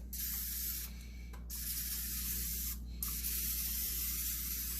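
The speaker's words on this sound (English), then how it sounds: "Just give it a nice little spray of our olive oil" Short bursts of olive oil cooking spray hissing close by onto a cast iron pan, three quick sprays separated by brief pauses, no one talking.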